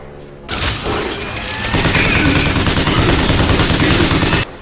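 Sustained rapid automatic gunfire from a first-person shooter, Bioshock Infinite, loud and dense for several seconds with booming impacts layered in, then cutting off abruptly.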